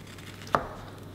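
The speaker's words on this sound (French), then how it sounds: "je vais couper cette bûche" A knife slices through a Picard Christmas log cake sitting in its tray, making a single soft, close chop-like thud midway through an otherwise quiet moment.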